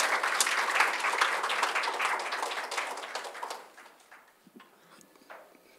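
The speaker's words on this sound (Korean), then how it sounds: "큰 박수로 모시겠습니다" An audience at a Korean science culture innovation forum applauds as the foundation chairman is welcomed to the stage. The clapping is dense and steady for about three and a half seconds, then thins to a few scattered claps.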